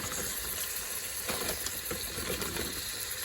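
Frozen black-eyed peas sizzle in a hot pan, a steady close hiss of frying with faint crackles and scrapes throughout.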